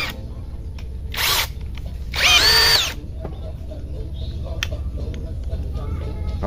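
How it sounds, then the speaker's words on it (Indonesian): Two short, loud bursts of an impact drill whirring with a 36 mm drill bit, the second longer, separated by quieter background noise and faint handling sounds. "Sekarang kita mau pakai mata bor yang 36 mili."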